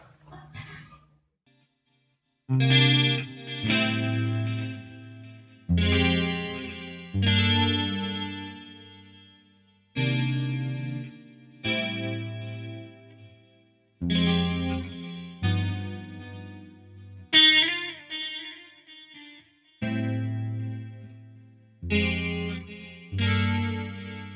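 A distorted electric guitar through a CAA 3+ SE preamp with compression and phaser plays a series of ringing chords, each struck and left to sustain with a swirling, sweeping effect, separated by brief gaps.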